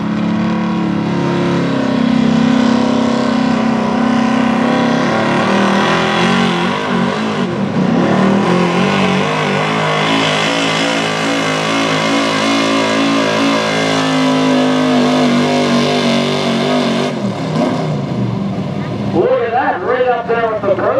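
Pro Stock 4x4 truck engine roaring continuously under full throttle during a sled pull at a Western Pennsylvania truck and tractor pull, loud and sustained with pitch shifts, an announcer talking over it throughout.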